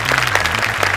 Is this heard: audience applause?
yes